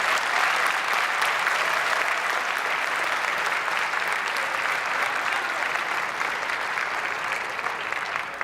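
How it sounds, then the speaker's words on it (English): Full, even applause rolls through a convention center hall after DC elected officials take their oath at a 2015 swearing-in ceremony, steady and dense before easing slightly near the end. "Big round of applause"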